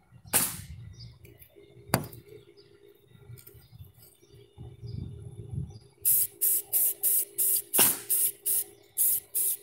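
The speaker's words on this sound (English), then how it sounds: "So right now I'm just spot painting because I want to build up the coats on the area that was already damaged." Spray paint hisses in short repeated bursts over rust spots on a cargo van roof, starting with a couple of isolated sprays, then a rapid series of about eight quick, close blasts.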